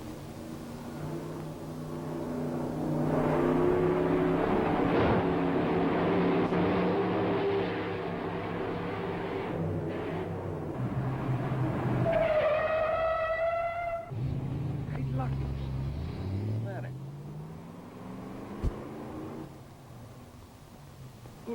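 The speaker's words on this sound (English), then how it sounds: "Look, Joe, take that jalopy there and run it over the bumps." An old jalopy driven over bumps on a test course in a 1940 film: a sustained engine drone rising and falling, with rattles, a whining tone midway and thumps, fairly loud and close.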